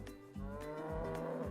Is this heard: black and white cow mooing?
yes